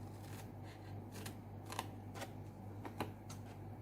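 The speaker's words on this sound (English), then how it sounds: "cut up this way, trim it off over here" Scissors trimming card for Christmas cards, heard as a series of quiet, crisp snips spaced irregularly over a low steady background hum.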